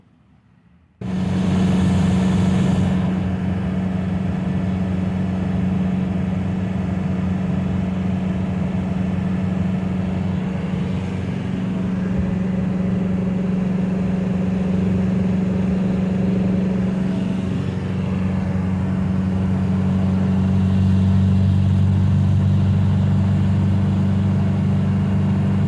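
TDI diesel-swapped Toyota driving while towing a car hauler carrying a 1973 Scout II: a continuous droning engine and road rumble heard from inside the cab, starting abruptly and holding steady with slight pitch shifts.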